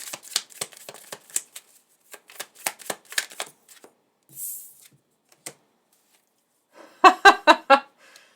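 A deck of tarot cards shuffled by hand before drawing a single card: a run of crisp riffling flicks, a brief soft swish, then a final loud burst of rapid, close riffle snaps, with no talking.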